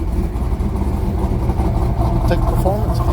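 A 1996 Camaro's cammed, rebuilt LT1 V8 idles with a low, lumpy rumble that runs rich, close and loud. Someone talks over it.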